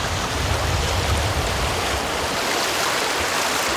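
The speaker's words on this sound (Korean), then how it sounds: "첨벙첨벙 할아버지가 물을 건너온다" A grandfather splashes across a stream, and the rushing water forms a loud, steady, broadband wash with no distinct separate splashes standing out.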